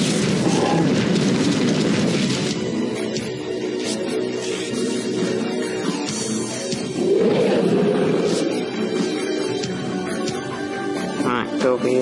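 A flamethrower burns an enemy in the Odium/Gorky 17 video game: a loud, sustained roaring rush of fire with deep booming swells and beastly growls, and voices talking over it.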